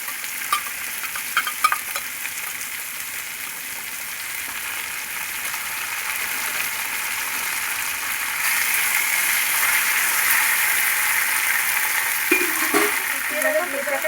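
Spices stirred into stalks, pumpkin and onion frying in a pan, a steady close sizzle with scraping stirs and occasional utensil clicks, growing louder in the second half.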